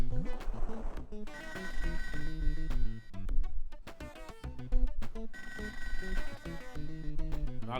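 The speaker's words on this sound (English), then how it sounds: "I hear the phone." Telephone ringing in the Sega Genesis game ToeJam & Earl, a ringing bell pattern mixed over steady funky game music and bass throughout, with no talking.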